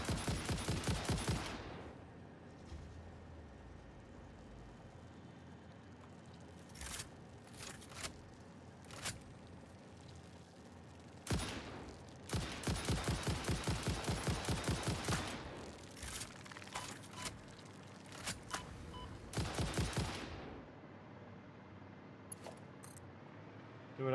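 Bursts of rapid gunfire in a Satisfactory game session, several loud volleys separated by pauses, with dense crackling shots over a steady background hum and no talking.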